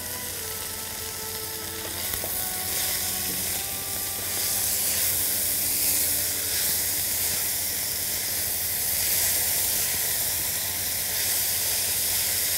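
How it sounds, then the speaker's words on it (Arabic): Chopped onions sizzle in heated butter in a pan with a steady, broad hiss. The sound grows slightly louder after the first few seconds and continues alone without speech. "هنا زبدة سخنت فهحط البصل واسيبه على مهله كده ياخد لون فاتح، بني فاتح او ذهبي"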